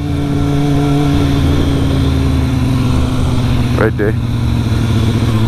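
A small pit bike engine drones steadily and loudly nearby, a continuous buzzing hum throughout, while someone talks over it.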